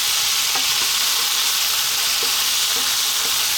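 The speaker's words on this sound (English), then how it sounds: "What I'm going to do now is add in that butter, the Ethiopian spice butter." Ethiopian spice butter sizzles and fries steadily in a pan for a lamb and potato stew, a loud broadband hiss with a few soft clinks of stirring throughout, no voices.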